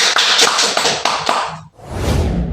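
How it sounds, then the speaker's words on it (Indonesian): An audience at an anti-bullying talk show claps in a string of sharp, roughly rhythmic hand claps, then breaks into a brief burst of louder, blended applause, close and without talk. "Kita tepuk tangan sekali lagi."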